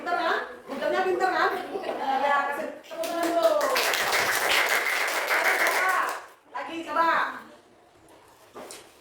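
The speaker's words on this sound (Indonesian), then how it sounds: "kasih tepuk tangan dulu" A classroom group of children claps together in a dense burst of hand clapping lasting about two seconds, framed by a teacher talking before and after, with a voice and light laughter mixed in.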